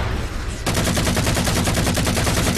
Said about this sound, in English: there is a ship shooting at me